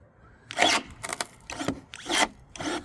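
Pruning shears snapping through a dry wooden board: five sharp, crunchy cuts come in a steady rhythm, each one close and fairly loud, with brief quiet gaps between them.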